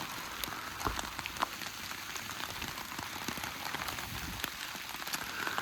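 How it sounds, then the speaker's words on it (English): Steady rain falls on wooded trails across from Bloody Pond at Shiloh, a constant close hiss with scattered louder drips and taps and no talk. "This be a steady rain."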